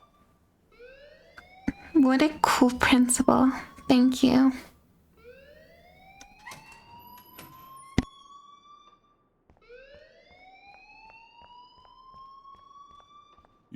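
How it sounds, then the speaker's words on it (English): School alarm ringing in the video game Life Is Strange, repeated rising siren-like tones that sweep upward in separate bursts, partly under a loud stretch of talk and game sounds. "please turn off that alarm since that's your job"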